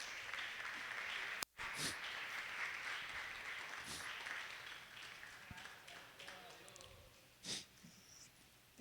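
Faint applause from a congregation during a Bible study service, a soft wash of clapping that is broken by a brief dropout and gradually thins out, with a few louder isolated sounds near the end.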